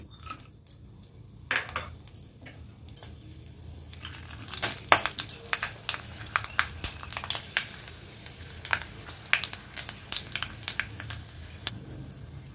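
Whole garam masala and a bay leaf crackle and pop in a mix of oil and ghee, scattered sharp ticks building from quiet to busier spitting over a low steady hiss, close by with no talk.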